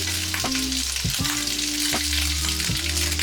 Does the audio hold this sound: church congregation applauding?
no